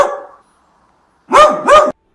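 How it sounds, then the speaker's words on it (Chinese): A small dog on a farm gives two short, loud barks in quick succession after a faint tonal sound fades out, with no talk. "农场里有一只小狗，小狗说话，汪汪汪。"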